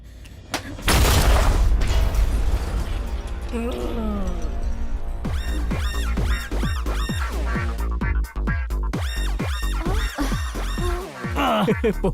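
A loud, close blast from explosive sticks bursts out about a second in, a broad heavy boom that gives way to a busy mix of tonal sounds and voices.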